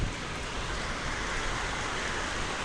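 Steady rain pours down on an outdoor farm plot in an afternoon shower, a soft, even hiss of drops that holds at constant level from start to finish.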